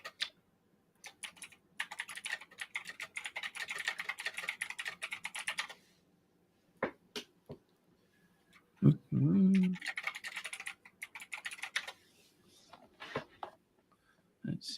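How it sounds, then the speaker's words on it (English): Bursts of typing on a computer keyboard during a live broadcast with technical trouble, rapid clicking runs separated by pauses, with a brief spoken word and some low talk in between. "I don't know where you're typing at."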